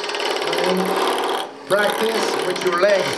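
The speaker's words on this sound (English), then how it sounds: "I will rough it out with my roughing gouge." Roughing gouge cutting a spinning wood blank on a lathe, a dense, close chattering scrape that breaks off briefly then resumes, with someone talking over it.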